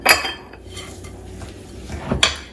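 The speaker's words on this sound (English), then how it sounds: "I'm going to add 1 cup of the sweetener, and I'm going to whisk that all in" A whisk works sweetener into pecan pie filling in a bowl, with a couple of sharp metallic clinks against the bowl and soft stirring between them.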